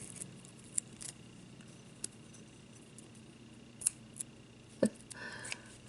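Scissors cutting sticky tape or card for a handmade tag, heard as a few sharp, brief snips with paper rustling against a quiet room background.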